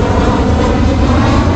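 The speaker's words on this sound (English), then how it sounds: "All these planes going over all day and night, every day, all week, all year long?" An airplane passes overhead near a city cemetery, a loud steady engine roar that fills the short stretch with no talking.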